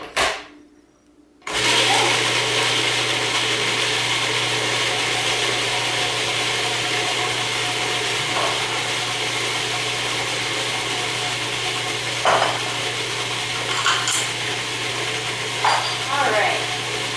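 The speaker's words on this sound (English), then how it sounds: "And we'll turn on our food processor, and we're going to process this until it's smooth." A food processor blending cilantro pesto starts up after a short pause and runs as a loud, steady, close motor whir, with a few faint knocks against the bowl.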